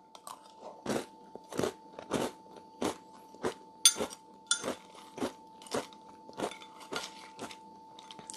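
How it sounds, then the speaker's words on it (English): Someone eats cereal close to the microphone, with loud, steady crunching bites about twice a second and no talking, over a faint constant electronic hum. "my crunching probably loud."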